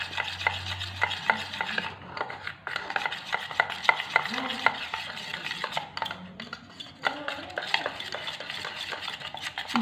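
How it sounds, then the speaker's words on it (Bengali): Sponge cake batter of biscuits and Amul milk is whisked in a bowl with rapid, rhythmic clinking and scraping, close and continuous, with brief pauses around two and six seconds. "যে ভালো করে ফেটিয়ে নিচ্ছি এটাকে"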